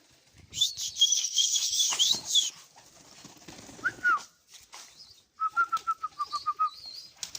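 Pet pigeons are close by, with a loud flurry of wing flapping, then a run of short rhythmic calls and chirps near the end.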